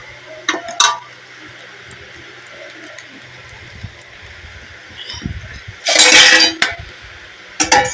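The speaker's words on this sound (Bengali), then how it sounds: "ঢাকাটা দিয়ে দিই" A metal lid set onto a pan of steamed palm-fruit puli pitha, with light clinks and scrapes, then one louder rattling clatter near the end, close by.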